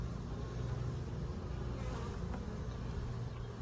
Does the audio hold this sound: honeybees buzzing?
yes